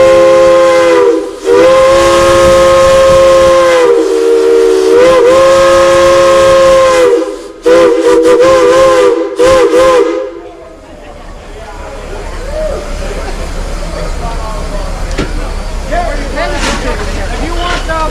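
Steam whistle at a locomotive's 80th birthday celebration, blown in long loud chime blasts with short breaks for about ten seconds, then falling silent to leave hissing steam and a crowd murmuring nearby.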